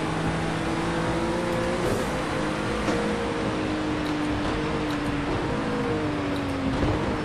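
A 2017 Acura NSX race car in Project CARS 2 drives in heavy rain, its engine droning and shifting pitch steadily with a continuous wash of spray and road noise, no voice over it.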